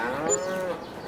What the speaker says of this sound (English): let's just check out the cows